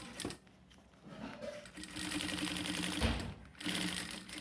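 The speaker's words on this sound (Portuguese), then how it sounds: "E vou passar a costura aqui agora." A sewing machine stitches the seams of a small fabric charger and headphone holder, giving a steady, close mechanical whir with brief pauses and restarts and no talking.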